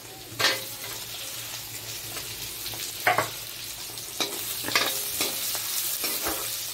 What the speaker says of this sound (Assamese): এতিয়া ইয়াতে আলুখিনি দি দিম পিটিকি থোৱা